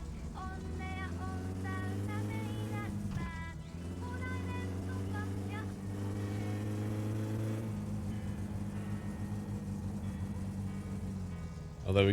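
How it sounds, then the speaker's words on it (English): The green car in My Summer Car drones steadily with a low humming engine tone, fairly constant and mid-distance, under a voice talking and radio-like sounds, dipping briefly before resuming. "I can hear the green car."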